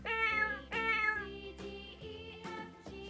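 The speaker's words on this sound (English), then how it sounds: "C-A-T, cat." Synthetic cat meow from a Vtech Little Smart School Bus talking toy, a short electronic meow repeated in several bright, tonal bursts, close and fairly loud, with no talking.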